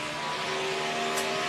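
NASCAR stock car engines at the 2014 FedEx 400 drone through a corner with steady, sustained tones that shift slightly in pitch, heard from a moderate distance without talk.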